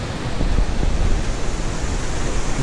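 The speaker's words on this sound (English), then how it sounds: "at least I'd say an 18-foot waterfall way up there." An 18-foot waterfall at McConnells Mill State Park, heard as a loud, steady broadband roar of rushing water with no breaks, filling the whole scene.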